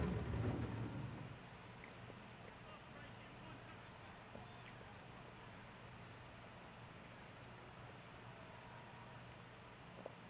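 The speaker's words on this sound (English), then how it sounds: "Storm in the field." Steady rain hiss of a thunderstorm in the Madden 25 football video game, with a low rumble of thunder fading in the first second, then a constant even wash of rainfall.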